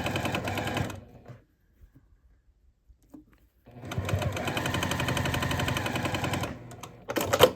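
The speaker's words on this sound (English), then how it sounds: "I'm going to sew across the length of this." A sewing machine stitches across quilt block pieces in two runs of fast, steady, close mechanical whirring, separated by a quiet pause with small handling sounds.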